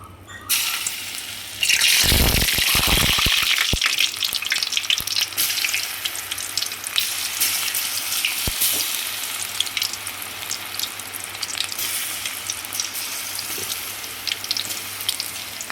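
Loud, steady crackling sizzle of pakoda batter, made with red banana stem, frying in hot oil, starting with a burst as it hits the pan and continuing without talk.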